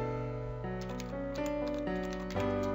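Typing on a computer keyboard while entering a diskpart partition command to prepare a bootable USB flash drive: a quick run of close, crisp key clicks over a steady background hum, with no voices.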